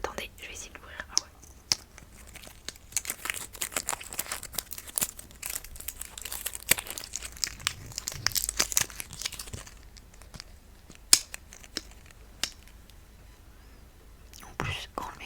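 A crinkly plastic mystery bag package is torn and opened close to the mic in ASMR style, with dense crumpling and tearing rustles over several seconds and occasional soft whispering in between.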